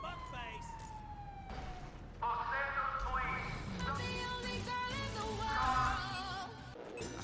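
A wailing police siren rises and falls through busy GTA 5 game sounds, with engine noise and effects layered over it, fairly loud and continuous.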